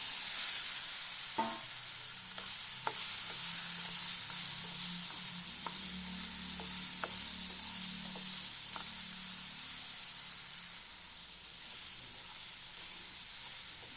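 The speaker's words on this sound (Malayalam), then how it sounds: "പഴം നെയ്യിലിട്ട് അല്പനേരം നമുക്കൊന്ന് വഴറ്റിയെടുക്കാം" Banana pieces sizzle steadily as they are sautéed in hot ghee in a pan, a continuous frying hiss with occasional soft clicks and stirring scrapes, close and alone.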